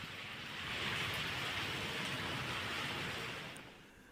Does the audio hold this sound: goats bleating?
no